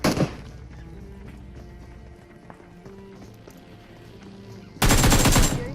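Loud bursts of gunfire in a shooting video game, at the start and again at the end, with quieter in-game movement and rustling between them.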